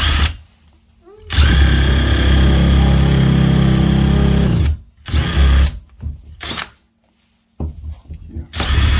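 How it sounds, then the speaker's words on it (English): A power drill whirs loudly in several bursts while drilling into a house door, revving up and stopping with short pauses between, close by. "Go and drill this just a little."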